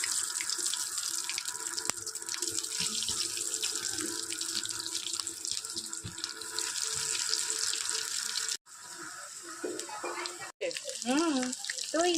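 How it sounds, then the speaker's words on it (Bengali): Breaded chicken nuggets fry in hot oil with a close, steady sizzle and crackle, broken by brief gaps near the end. "চলো ফ্রাই করে নি।"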